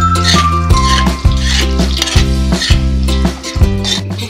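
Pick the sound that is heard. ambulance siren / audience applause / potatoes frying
potatoes frying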